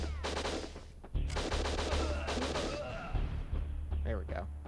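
Gunshots from the N64 video game WinBack ring out in rapid bursts, several quick volleys of close, sharp shots mixed with game effects, with no talk over them.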